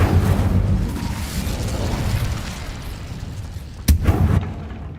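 Incendio fire spells cast in Hogwarts Legacy burst out as a loud, rumbling whoosh of flame, with a sharp crackling blast near the end before the sound trails off.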